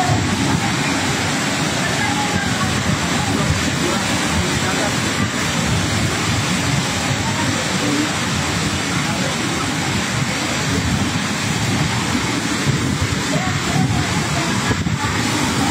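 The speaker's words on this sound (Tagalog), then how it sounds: "Malakas po ang hangin, malakas ang ulan." Strong wind and heavy rain at the sea in San Antonio, Northern Samar, with big waves: a loud, constant roaring rush of gusts, downpour and surf buffeting the microphone throughout, with no clear breaks.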